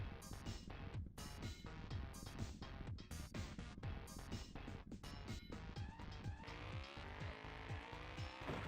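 Engine roar, tire squeals and skidding from a racing car in the retro FMV video game Crash N Burn, loud and continuous with repeated sharp impacts and a screeching slide toward the end.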